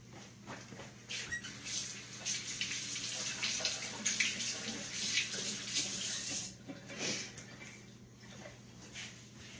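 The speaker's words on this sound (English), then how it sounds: "Let me wash up." Tap water runs steadily into a kitchen sink while hands are washed after eating sticky biscuits, a continuous close splashing hiss with small shifts in flow and no talking.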